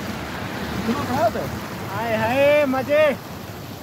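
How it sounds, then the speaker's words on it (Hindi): A waterfall keeps up a steady broad rushing roar outdoors, with people talking and exclaiming excitedly over it. "और यहाँ का झरना"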